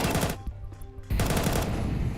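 Rapid automatic gunfire bursts from a Counter-Strike esports match, loud and close, a dense volley, a short lull with faint game sounds, then another sustained burst.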